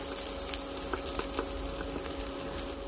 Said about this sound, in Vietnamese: mình phi cái phần hành tím này lên xíu rồi cho nó thơm thơm lên xíu